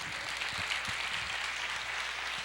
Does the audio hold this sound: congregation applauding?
yes